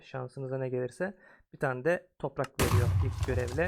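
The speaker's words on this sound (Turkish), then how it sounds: "Bu patlama sesi ilk quest'i tamamlayınca çıkıyor." A person talks, then a sudden loud explosion-like boom from a modded Minecraft game, triggered on completing a quest, bursts in and rumbles on under continued speech.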